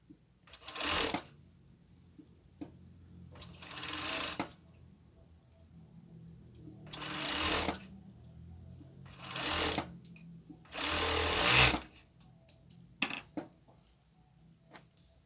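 Sewing machine stitching a crop top seam, running in about five separate bursts of a second or so each, close and clear, with quiet pauses between runs.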